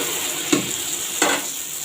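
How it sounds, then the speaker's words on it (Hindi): Puri fries in hot oil with a steady, close sizzling hiss and two brief bursts of louder crackle as the dough is moved or turned. "इसको अब हम उठा के तो अपने ऑयल में जो है फ्राई कर लेंगे।"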